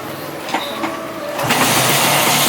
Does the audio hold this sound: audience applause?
no